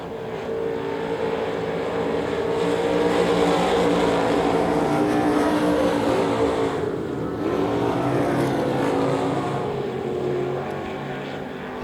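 Race cars roar around the dirt oval at Devil's Bowl Speedway, a loud, continuous blend of engines that swells as the pack passes close, then eases as it pulls away.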